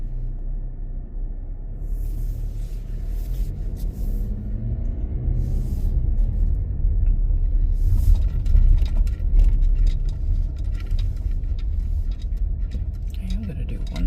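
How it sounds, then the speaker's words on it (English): A car driving slowly through historic Annapolis, Maryland, giving a steady low engine and road rumble heard from inside the cabin, continuous and fairly loud, with faint clinks and no speech over it. "This is not the spot, so I'm going to drive on a little bit"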